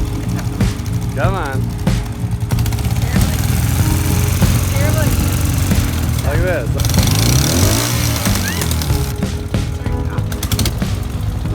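A motorcycle engine revs loudly and continuously close by, rising and falling in pitch, while people talk and urge the rider over it.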